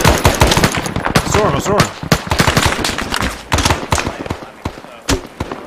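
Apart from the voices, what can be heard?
gunfire in video game Arma 3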